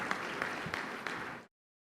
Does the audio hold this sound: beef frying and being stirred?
no